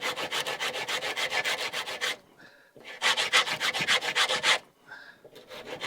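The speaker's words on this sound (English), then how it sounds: "I find it's easier just to use solid stock and go at it with the sanding stick" Rhythmic back-and-forth rubbing of a sanding stick rounding over the edge of solid wood stock, for lapstrake boat building: two bursts of quick, steady strokes separated by a brief pause, close and fairly loud, with no talking.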